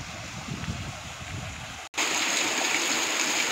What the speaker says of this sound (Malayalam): എന്താ നല്ല രസമല്ലേ വെള്ളം വീഴുന്ന കാണാൻ.